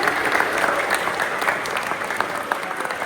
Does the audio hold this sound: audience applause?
yes